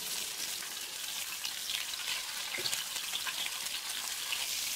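Rolls of sliced eggplant filled with minced meat fry gently in oil in a pan over low heat. A soft, steady crackle and sizzle continues throughout, quiet and close.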